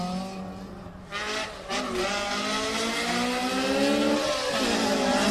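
A Honda Civic EG8 hatchback race car, Group H, launches off the start at a festival of speed. The engine revs hard and near, with rising stepped pitch through the gears that builds in loudness.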